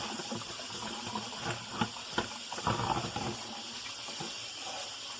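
Tap water rinsing a kitchen strainer in a sink, giving a steady, fairly quiet hiss and splatter with a few louder splashes as the strainer moves under the stream.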